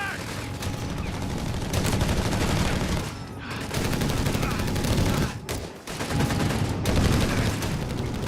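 Rifle and automatic gunfire in the strategy game Company of Heroes 3, loud dense volleys of shots running almost continuously with two brief dips, under a mix of battle noise.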